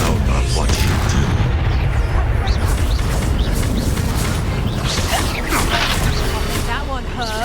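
Spell explosions from Confringo and Bombarda in Hogwarts Legacy boom again and again amid dense battle noise, heavy thuds and crackling bursts layered over each other, loud and close throughout.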